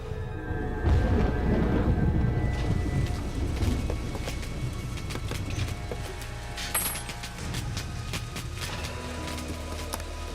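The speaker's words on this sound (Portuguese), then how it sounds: "Caiu uma terrível tempestade." A thunderstorm with a deep roll of thunder that swells near the start, then fades into a continuous rain-like hiss with scattered clicks and clatter.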